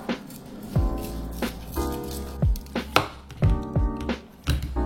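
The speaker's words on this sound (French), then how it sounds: "je vais couper le long de l'os" A knife slices through a teriyaki tomahawk steak along the bone, giving several distinct chopping knocks on a board spaced about a second apart, close and clear with no talk.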